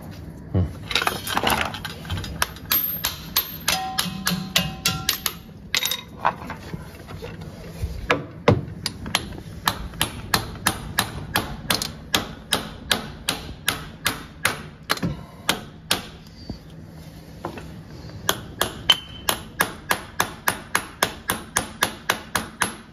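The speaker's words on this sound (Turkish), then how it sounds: "Şöyle çekiçle vuracağım şimdi." Repeated sharp metallic hammer blows on a Volkswagen Polo 6N outer axle and CV boot assembly ring out, irregular at first then settling into a fast steady rhythm, close and loud, with occasional clanks between.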